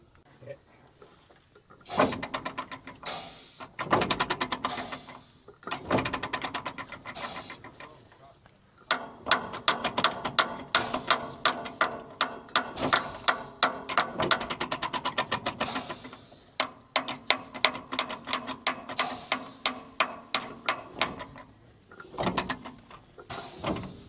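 Driveline lever or switch on a Detroit-powered Kenworth truck being cycled in the cab, giving repeated mechanical clunks and rattling taps in bursts, close and fairly loud, with no talking.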